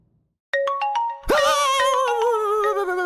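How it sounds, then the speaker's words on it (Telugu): A phone's ringtone for an incoming call plays loudly and alone, a bright repeating electronic melody of sustained tones that starts after a brief quiet moment and keeps ringing. "సార్ ఫోన్ చేస్తున్నారు"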